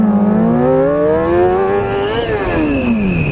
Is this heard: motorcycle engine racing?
yes